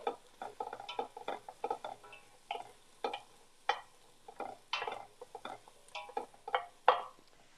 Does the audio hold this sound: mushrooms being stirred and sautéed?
yes